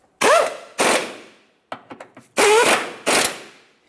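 Control arm mounting bolts on a 2014-2018 Mazda 3 are run down with an impact wrench: four loud, close whirring bursts of about half a second each, with a few light metallic clicks between them.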